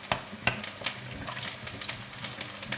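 Peeled tomatoes in a beef meatball goulash pan, with a little water added, stirred and crushed with a spoon: repeated knocks and scrapes against the pan over a steady close sizzle and bubbling, no talking.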